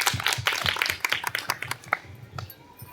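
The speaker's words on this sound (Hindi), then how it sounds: "जोरदार तालियां इनके लिए" A small audience at a poetry gathering claps for a few seconds, sparse and uneven close by, then thinning out.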